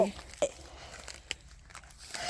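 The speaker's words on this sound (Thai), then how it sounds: "ชิมชิมกรอบมากนี่นี่เด็กๆกัดเลย" Children bite into a large, crunchy green mango, about a kilogram, in a mango orchard. A few crisp crunching bites stand out over background voices and outdoor noise.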